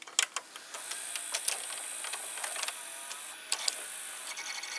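The tape mechanism of a GoldStar GHV-51FM VCR runs with a steady mechanical whir, marked by sharp clicks and ticks early on and again near the end, close up and fairly quiet.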